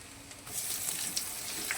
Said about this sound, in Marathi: त्यानंतर जिरं मोहरी टाकायची